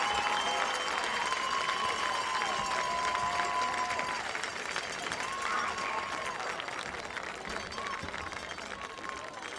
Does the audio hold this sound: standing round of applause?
yes